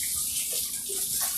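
Water from a kitchen tap streams steadily into a sink for rinsing, a continuous close hiss without talk.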